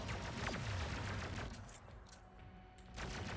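Weapon fire from Ratchet & Clank: Rift Apart on PS5 bursts out in a dense, loud volley with whooshing effects, drops away briefly in the middle, then picks up again near the end.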